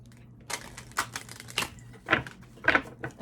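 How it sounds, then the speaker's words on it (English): A deck of tarot cards is shuffled by hand, giving a run of separate papery riffles and slaps at close range, each one brief and crisp against a quiet background. "I always feel the need to kind of shuffle these, even though all of them are shuffled."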